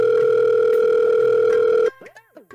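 A telephone dial tone plays while a call is placed to a house owner. The steady, loud, continuous hum stops abruptly and gives way to a faint voice.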